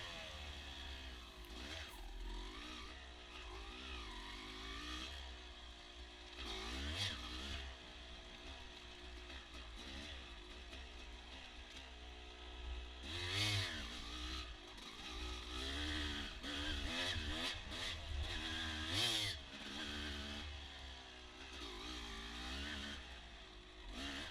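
Motorcycle ridden along rocky outdoor trails, its engine droning steadily for the whole stretch with repeated revs and throttle swells, close to the rider and loud, with no talking.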